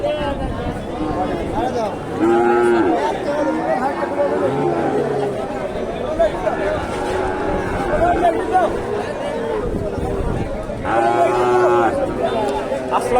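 Cattle market crowd with Sahiwal and local bull calves, where steady chatter and hubbub dominate throughout and occasional low moos from the calves break through, near and loud, while people talk over the whole scene.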